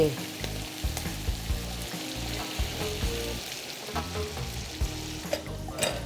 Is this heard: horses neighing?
no